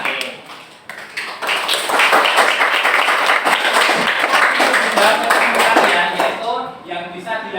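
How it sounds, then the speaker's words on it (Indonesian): An audience in a training session claps for a participant named Dava, dense, steady applause for several seconds that tapers off near the end as a voice begins to speak. "Tepuk tangan buat Mas Dava nggih"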